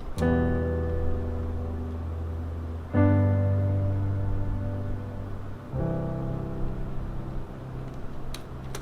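A sustained keyboard melody in three phrases, the notes landing with uneven force, some louder and some softer, with no talking.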